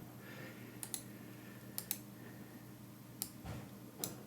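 Mouse clicks on a desk while rows of a data table are selected: sharp, faint, close-up clicks in quick pairs and singles, spaced across a quiet room hum.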